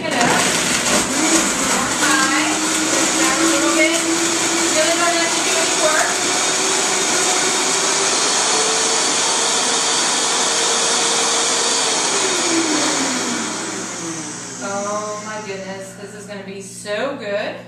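Vita-Mix 5200 blender running at high speed on an avocado chocolate shake, a loud steady roar with shifting pitch that winds down near the end.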